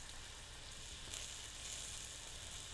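Washed leafy greens such as kale or Swiss chard sauté in a hot pan, giving a steady, even hiss of sizzling with faint crackles throughout and no talking.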